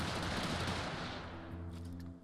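Automatic gunfire in the online shooter Stay Out (Stalker Online): a sustained rapid burst of shots for over a second, then a fading ringing tail, loud and close.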